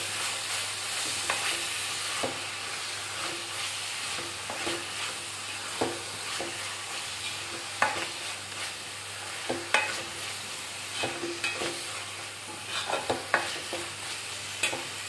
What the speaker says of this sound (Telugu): ఇది బాగా బ్రౌన్ కలర్ వచ్చే వరకు వేయించుకోవాలి